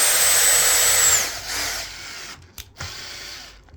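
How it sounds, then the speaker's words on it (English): A power drill drives screws to fix LevelFix packers under window joinery, a loud continuous whirring burst that winds down after about a second, followed by quieter rattling and brief clicks. "So fix the screws into place."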